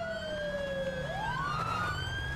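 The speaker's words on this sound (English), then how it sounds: "Sirens." Police sirens in a video game wail faintly in the background, a steady rising and falling tone sweeping over a low engine-like rumble with no talk.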